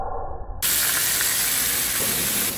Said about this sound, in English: we're gonna put some oil, some achote oil, and stir fry them